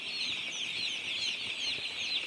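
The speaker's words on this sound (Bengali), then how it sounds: "সবাই রাত্রিতে ঘুমোচ্ছে আর আমরা এখন মুরগি তাড়াচ্ছি।" Thousands of day-old broiler chicks in a poultry farm shed at night, making a dense, continuous high-pitched chorus of peeping that stays steady and fairly faint, with no voices.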